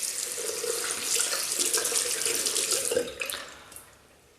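A bathroom tap runs steadily to rinse an Ever Ready SE safety razor, producing a close, continuous hiss of flowing water with brief splashes before it tapers off at the end.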